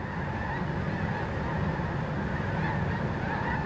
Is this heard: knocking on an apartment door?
no